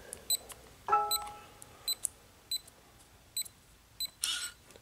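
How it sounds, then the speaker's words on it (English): A Securam electronic safe lock keypad gives short, repeated electronic beeps at a steady pace, with one brief longer tone partway through, fairly quiet against low background noise. "You're going to plug in, and you're going to hear that beep."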